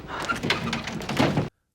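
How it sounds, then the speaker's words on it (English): A door opens in a dramatic scene, giving a few short knocking and thudding bumps close by over a low background before the sound cuts off to silence. "You opened the door."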